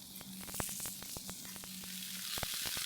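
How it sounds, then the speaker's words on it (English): Ćevapi sizzle quietly on a moderately hot plate, a soft steady frying hiss dotted with sharp little pops and crackles throughout. "I'll transfer them to a moderately hot plate. This will allow the Ćevapi to simmer and cook all the way through."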